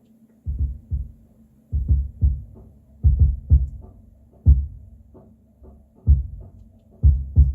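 Kick drum captured by a Solomon subkick microphone: deep, boomy, low thumps in a steady groove, often in quick pairs, close and solid with a resonant tail and no voices.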